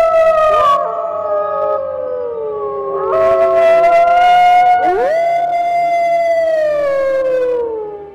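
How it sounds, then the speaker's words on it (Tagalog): Several dogs howl at night in a village, long overlapping wavering cries rising and falling in pitch, loud and close, continuing without a break and fading near the end, with no voices. "Sumabay pa ang nakakatindig balahibong along ng mga aso."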